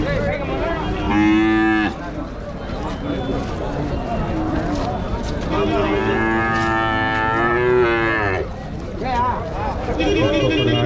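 Cattle moo repeatedly in long, loud, drawn-out calls close by at a cattle market in Vaniyambadi, with a crowd of voices chattering in the background.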